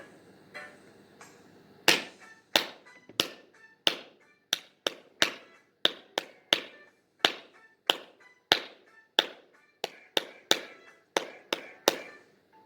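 Children in a senior kindergarten group clap their palms in time with music, producing a regular series of sharp, distinct claps over a quiet background of faint tones.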